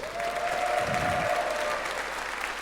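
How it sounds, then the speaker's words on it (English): A crowd at the DreamHack Summer 2011 esports event, during the Bloodline Champions grand finals, applauds in a steady, dense wash of clapping that holds evenly throughout, with a faint sustained tone running through the middle. "Shelt, step forward, a round of applause"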